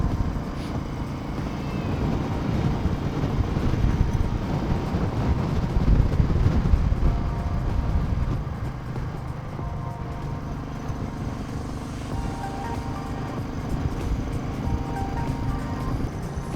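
A motorcycle engine labours uphill in low gear on a high mountain road from Hanle toward Umling La, a steady close drone with wind rumble that swells and eases as it climbs, with no talking.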